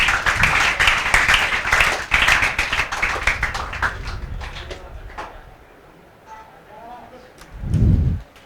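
Classroom clapping for a first-rank student, loud rapid hand claps from a group that thin out and fade midway, leaving quieter room noise and a brief low thump near the end.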